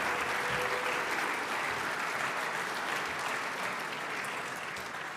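Sustained crowd applause fills a banquet hall in Orlando for award-winning fraternity chapters, dense and steady throughout before tapering slightly at the end, with no voices over it.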